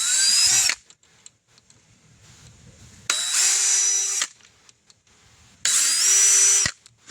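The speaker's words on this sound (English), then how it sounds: "I'll take this drill bit and just go at an angle just like that." A power drill whirs up and spins down three times in short bursts, drilling at an angle into plastic, with quiet gaps of handling noise between each run.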